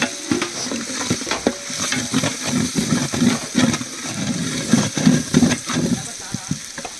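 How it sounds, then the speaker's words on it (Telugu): Ginger garlic paste fries in a large pot for a big batch of chicken pulao cooked outdoors in a forest area, a steady sizzle broken by rhythmic scraping stirs, close and fairly loud. "ఇప్పుడైతే అల్లం వెల్లుల్లి పేస్ట్ ఫ్రై అయిపోయింది"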